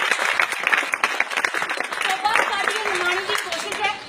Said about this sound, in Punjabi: ਤਾਲੀਆਂ ਵੀ ਤਾਲੀਆਂ ਵਾਹ ਵਾਹ ਵਾਹ